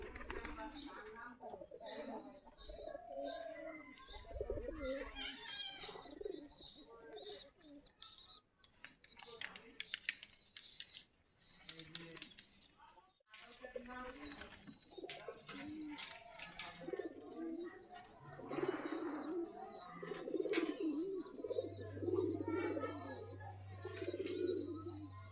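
Domestic Giribaz pigeons coo and flutter in a loft, soft repeated low coos with scattered chirps and wing clatter at close range, while people talk intermittently.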